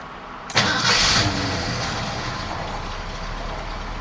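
A 1986 Ford F-250 with a newly installed Holley carburetor cranks briefly, fires and settles into a steady rumbling idle, loud and close.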